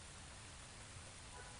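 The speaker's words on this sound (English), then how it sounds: "I like the sound of rain, but it can get a bit much" Steady rain hisses as an ambient backdrop in Star Wars Galaxies, a dense, even wash of falling drops with no break and no voices, fairly quiet and constant.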